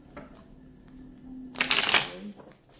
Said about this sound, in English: So let's just get into the shuffling. I'll do four more shuffles